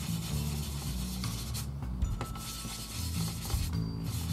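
Decals on a plastic scale model are sanded down with steady, continuous raspy rubbing strokes, close up and fairly loud, with no voices.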